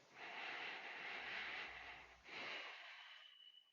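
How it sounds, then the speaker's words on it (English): One deep breath taken close to the microphone: a long, airy inhale, a brief break, then a slow exhale that fades into quiet. "Take a deep breath."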